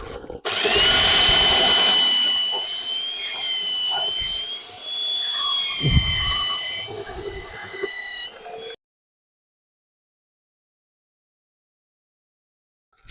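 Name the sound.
belt sander cleaning up edges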